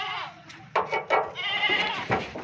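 Goats bleat on a goat farm as animals are led to numbered pens, several loud, close calls in quick succession over a steady background hum, with no talking.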